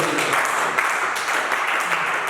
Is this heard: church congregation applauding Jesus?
yes